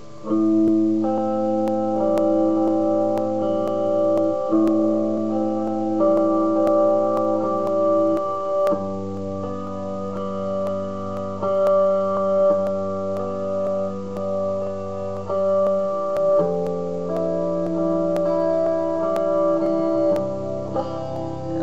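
Steady guitar strumming of chords through the second verse of a song, sustained and even, with chord changes every few seconds and no voices.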